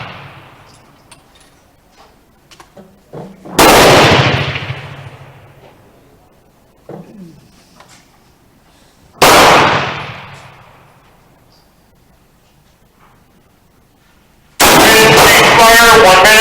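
Three loud, sharp rifle shots from a Remington rolling block 7x57 Uruguayan carbine, spaced several seconds apart, each with a booming decay. Quiet stretches with faint background noise fall between them.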